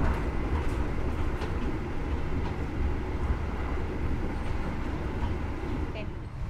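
Heard from inside the Gaya Baru Malam Selatan executive carriage pulling out of Bekasi station, a train gives off a steady, loud, low rumble with faint murmuring voices beneath it.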